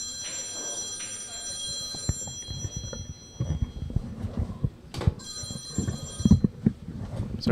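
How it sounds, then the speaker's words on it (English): Telephone bell rings in two bursts, one near the start and another a few seconds later, heard over background noise and murmur at a Northwest Cup Team Washington qualifier event. "let me get that phone real quick, sorry."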